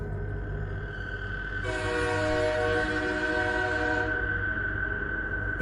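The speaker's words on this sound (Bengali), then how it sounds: "দূরে ট্রেনের হুইসেল শোনা যাচ্ছে" A train horn sounds one long, loud blast of about two and a half seconds over the steady rumble of a train on the rails, then fades back into the rumble.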